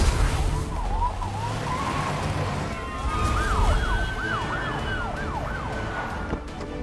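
An ambulance siren wails in a rising and falling pattern, sweeping repeatedly over a background of traffic noise, moderately loud and clear for several seconds.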